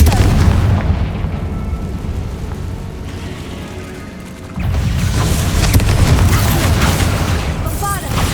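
A booming Confringo fire-spell blast in Hogwarts Legacy, heavy explosive roar that swells, drops off, then surges again into a sustained rumbling impact, loud and close amid game effects.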